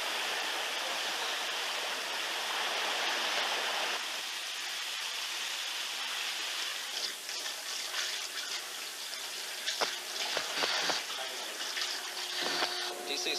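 Seawater flooding a ship's compartment in a 1968 Navy damage-control training film, a loud continuous gushing rush like a stream, steady throughout with some clatter later on.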